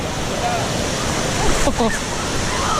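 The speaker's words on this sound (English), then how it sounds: "Now we're just about to go in the wave pool." A wave pool at Volcano Bay water park in Orlando, with a continuous loud wash of splashing water and surf noise, while a person nearby briefly exclaims over it.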